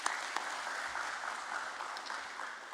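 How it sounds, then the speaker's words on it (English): An audience applauds at a stock exchange closing bell ceremony, a steady, even wash of clapping that carries on throughout without any talk. "I deserve a big round of applause"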